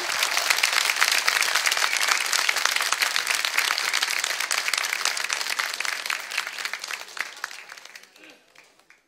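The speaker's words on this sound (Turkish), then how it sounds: "Program sunucumuz Turhan Çakır'ı alkışlarınızla sahneye davet ediyorum" Studio audience greeting a presenter at a Turkish folk music TV show, a dense, loud sustained roar of applause that holds steady for several seconds before tapering off at the end.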